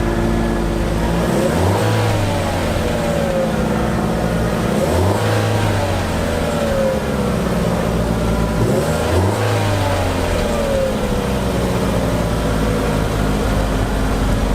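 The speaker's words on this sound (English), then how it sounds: "let's give that engine a listen here" A 2016 Chevrolet Trax's Ecotec engine revs repeatedly, climbing in pitch and dropping back about three times over a constant idle, loud and close with no talking.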